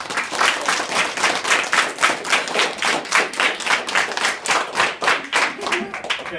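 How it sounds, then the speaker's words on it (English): A school classroom crowd claps for students at a grade-period awards ceremony, steady rhythmic clapping with voices mixed in, close and lively. "Let's give them a round of applause."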